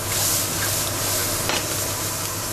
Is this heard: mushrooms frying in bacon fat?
yes